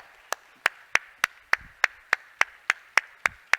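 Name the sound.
audience clapping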